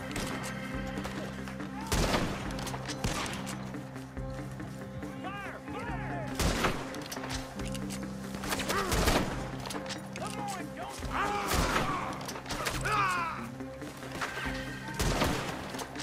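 Gunfire in the Red Dead Redemption 2 video game, loud separate shots spaced a couple of seconds apart over steady game ambience, with someone talking between them.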